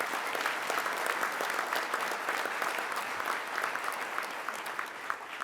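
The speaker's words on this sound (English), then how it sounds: "Please give them all a round of applause." Sustained applause from a banquet audience at a sports hall of fame club dinner fills the room, dense steady clapping from many hands, fairly close and even throughout with no talk over it.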